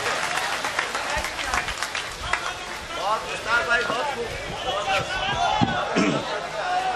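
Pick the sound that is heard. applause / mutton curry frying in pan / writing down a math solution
applause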